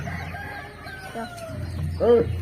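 Hens cluck and a rooster crows close by in a home yard during a morning routine. The crow rises loudest near the end over steady low background noise, with some voices nearby.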